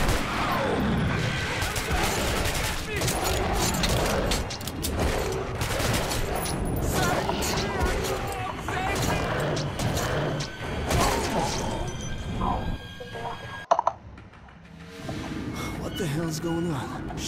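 Rapid gunfire and mechanical clatter fill a dense, continuous battle scene in the video game Metro Redux, with panicked shouting voices mixed throughout before the volley briefly cuts out near the end.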